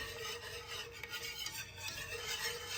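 Spoon stirring condensed milk into Brazilian hot chocolate made with real chocolate, a steady soft scraping and rubbing against the pot that carries on without a break, close and fairly quiet, with no voices.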